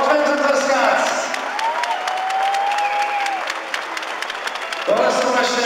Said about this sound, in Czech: Pojďme to tleskat!